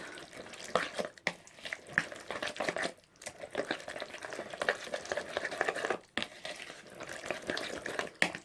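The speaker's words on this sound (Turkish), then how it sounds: "Şimdi hep birlikte karıştırıcı ile karıştırıyorum çırpıcı ile birbirine iyice birbirini harmanlıyoruz." A mixer whisks potato cake batter in a bowl, giving a close, fairly faint, uneven wet swishing and sloshing that runs steadily with a few brief breaks. No one speaks.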